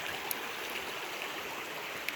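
A creek runs a little high along a wooded preserve trail, giving a steady, soft rushing flow of water with a couple of faint clicks on top and no voices.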